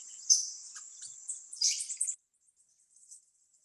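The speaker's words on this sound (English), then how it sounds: "we picked up the Zapata sparrow, nice yellow chest, brown cap, white throat, and he sings this way" A Zapata sparrow in Cuba sings a thin, high chattering phrase of quick chirps and buzzy notes, fairly close, followed by a few faint trailing calls.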